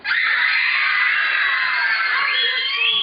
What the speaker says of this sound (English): If you cannot slap the person, you do what? You scream.